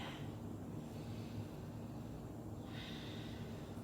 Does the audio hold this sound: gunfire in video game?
no